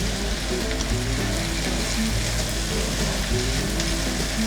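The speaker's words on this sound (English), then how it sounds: "So I'm going to fry this pepper until it's completely dry, like the oil separates from the pepper mix." Pepper mix for Nigerian jollof rice frying in oil in a pot, a steady, dense sizzle and crackle that holds at an even loudness throughout, with no voices.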